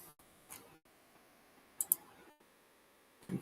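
A few sharp computer mouse clicks, including a quick double click, while navigating a presentation; faint, close and isolated against a quiet room.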